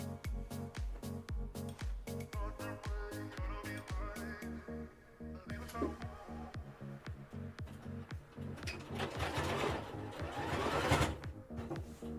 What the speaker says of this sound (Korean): 노루발 끝선과 원단 끝선을 맞춰서 박음질을 하면은 일정하게 박음질을 할 수가 있어요